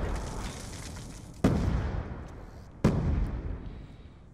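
Two heavy explosions from grenades in the shooter Black Ops 2, sharp loud booms roughly a second and a half apart, each trailing off in rumble over a continuous battlefield background, no talking.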